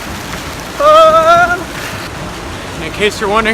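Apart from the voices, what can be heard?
heavy pouring rain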